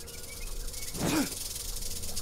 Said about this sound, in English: you can see a snake over there